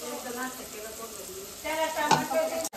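Chilli masala frying in a pot of Kolhapuri tambda rassa curry, a close, steady hiss with soft bubbling, then a brief sharper stir or clink near the end.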